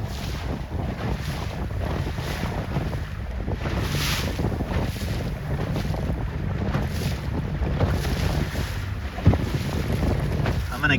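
Wind roaring across the microphone aboard a 29er dinghy sailing upwind in about eight knots of breeze, a steady loud rush with gusting swells, water sloshing against the hull and a faint voice underneath.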